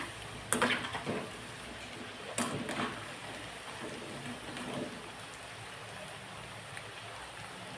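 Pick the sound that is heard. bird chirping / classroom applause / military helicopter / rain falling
rain falling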